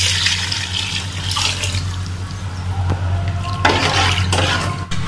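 Six measured glasses of water poured into a cooking pot for mutton biryani, a close, continuous splashing and gurgling stream with a steady low hum beneath and brief louder gushes.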